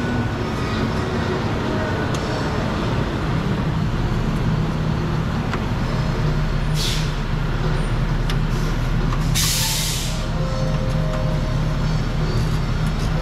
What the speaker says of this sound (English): Loud oil delivery truck.